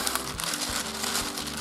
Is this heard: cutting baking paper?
yes